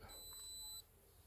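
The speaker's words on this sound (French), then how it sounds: "Ah, ça bip quand c'est prêt." A single sustained high-pitched electronic beep from an appliance, lasting under a second, then quiet room tone.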